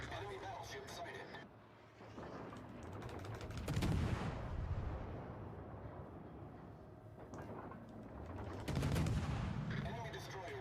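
Warship guns fire in the naval video game World of Warships Legends, two rolling salvos of deep booming gunfire over a continuous battle din, with a voice speaking between them.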